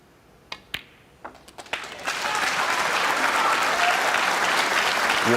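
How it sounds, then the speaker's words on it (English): A few scattered claps build into sustained, loud applause from the crowd at a snooker match during Mark Selby's 147 break against Neil Robertson. "The crowd are getting behind him."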